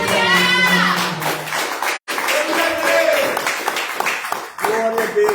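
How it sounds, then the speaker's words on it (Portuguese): A church congregation applauds during an evening service, dense clapping running steadily throughout with voices and singing mixed in and a brief drop near the middle. "Aplauda você que acredita."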